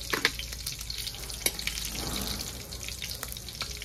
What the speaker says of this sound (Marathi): आता इथे थोडीशी राई जिरे टाकू